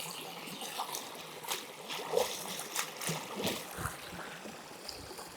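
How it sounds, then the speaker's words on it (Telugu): White sweet potatoes are washed by hand in running water, making soft, irregular splashes and trickles at close range. The sound is quiet and intermittent. "ఇక్కడ మనం శుభ్రంగా నీట్గా మనం దుంపలనే కడుక్కుందాం అండి తెల్ల చిలకడ దుంపలనే కడుక్కుందాం"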